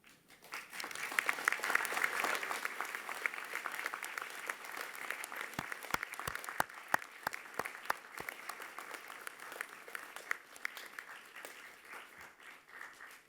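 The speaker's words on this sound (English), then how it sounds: "give them a rousing round of applause because they too have earned it" Audience at a UTS Business School graduation ceremony applauding, a dense, sustained patter of many hands that swells early, carries a run of sharp distinct claps midway, then thins toward the end.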